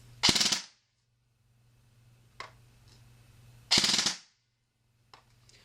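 A 2013 edition KWA SR7 airsoft rifle fires two short full-auto bursts at about 1,200 rounds per minute, each a loud, rapid buzzing rattle lasting under a second, with faint mechanical clicks in between.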